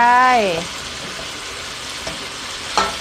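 Crispy pork and holy basil stir-fry in a pan with a loud, steady sizzle throughout, punctuated by a couple of scraping stirs, while a voice briefly speaks over the start.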